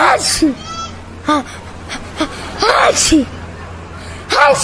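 A series of repeated sneezes and sharp breathy gasps bursts out close by, several in quick succession with short pauses between, amid a busy background.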